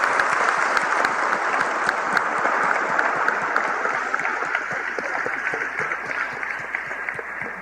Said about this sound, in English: I want to give you a big round of applause